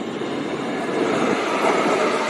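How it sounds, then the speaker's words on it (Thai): Bangkok Blue Line MRT train pulling into the platform at Tha Phra station, a steady broad rumble and rushing hiss that holds loud and continuous throughout, with no talk. "รถกำลังจะเข้าเทียบชานชาลาที่สี่นะครับ"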